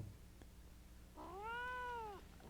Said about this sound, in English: That cat is not happy.